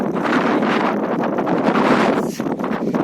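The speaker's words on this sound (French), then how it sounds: "Il y a beaucoup de vent." Strong gusting wind buffets the microphone on a desert trail during a long-distance thru-hike, a continuous loud rumbling roar that swells and dips for about three seconds with no voices.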